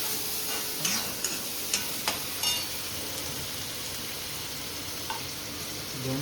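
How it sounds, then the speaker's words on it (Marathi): Two onions and tomatoes sautéing in a pan, a continuous crackling sizzle with occasional scraping stirs and light clinks, close and steady throughout. "परतायचं. 2 कांदे 2 टोमॅटो घेतले."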